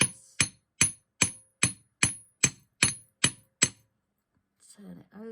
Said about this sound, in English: So what I'm going to do to start with is just hammer, make sure you can see me, hammer the end